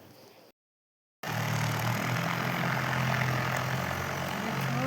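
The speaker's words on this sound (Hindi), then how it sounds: "ट्रैक्टर।" A tractor engine runs steadily and loudly close by at a building plot. A rumbling drone with a low hum holds after a brief gap of silence near the start.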